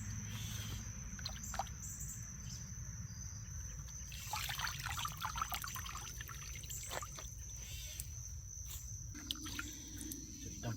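Water splashes and trickles as it is poured out, a steady wet pour over low background rumble, ending with a brief clatter.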